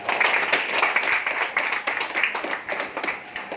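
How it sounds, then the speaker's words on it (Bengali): An audience claps loudly and steadily for a guest at a live event, dense continuous applause throughout with no gaps. "ওনার জন্য জোরে হাততালি।"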